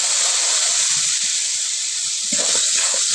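Water poured into a hot pan of chopped tomato, salt and turmeric gives a loud, steady steam hiss that fills the clip, with faint bubbling and spattering rising near the end.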